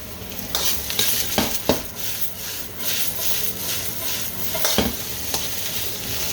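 Vegetables fry and sizzle in a pan for kitchen sink fried rice while a utensil stirs them with repeated scraping strokes. The hiss is loud and steady throughout, with no talking.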